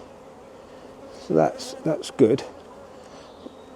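Honeybees buzzing around an open hive during a spring inspection, a steady low drone running under a man's speech throughout.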